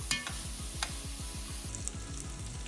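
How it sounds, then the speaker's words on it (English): Onions and chorizo soften in a pot over a quiet, even sizzle, with a few faint clinks and steady stirring close by. "So we're gonna let these onions wither with the chorizo"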